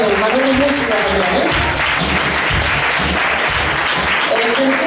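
Crowd applause at a Spanish singing contest presentation, greeting a married couple, continuous clapping throughout with a voice speaking over it.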